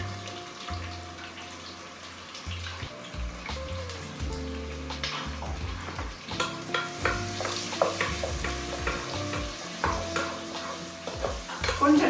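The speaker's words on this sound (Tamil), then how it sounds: "கொஞ்சம் லைட்டாக அதை அப்படியே ஃப்ரை பண்ணலாம்." Sliced onions fry in a pan for a mutton bhuna gosht, a continuous close sizzle with frequent stirring scrapes and clatter throughout, with no talking.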